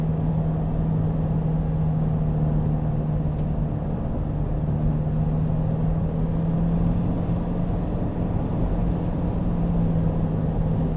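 A 1998 Toyota Hiace turbo diesel 4WD van climbs a hill, its engine giving a steady low drone with a constant hum and rumbling road noise, heard from inside without talk.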